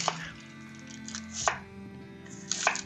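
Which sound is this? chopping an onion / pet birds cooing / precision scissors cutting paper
chopping an onion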